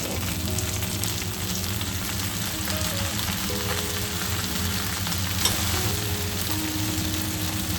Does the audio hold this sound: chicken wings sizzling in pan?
yes